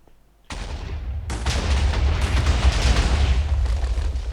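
Minecraft explosions erupt suddenly and grow into a dense, continuous roar of overlapping booms and crackling blasts that stays loud and close to the end.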